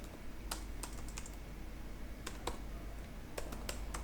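Keys clatter on a computer keyboard while code is typed for a Laravel 8 PHP tutorial, with short bursts of crisp, close taps separated by brief pauses over a faint hum.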